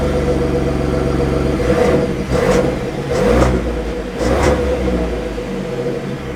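Engines of pickup trucks, a 2024 Ford F-150 Tremor and a 2024 Toyota Tundra TRD, rumble loudly and close by. The engine note swells several times as the trucks rev and pull away.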